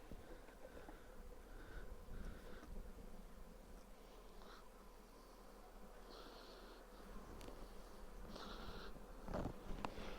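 Honey bees hum around an opened hive box, a steady low buzz with occasional louder passes of individual bees close by, continuous throughout with no talking.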